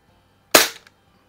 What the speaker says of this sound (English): But that could all be due to me shooting offhand here too